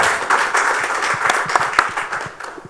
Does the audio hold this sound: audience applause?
yes